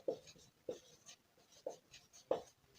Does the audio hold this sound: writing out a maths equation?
yes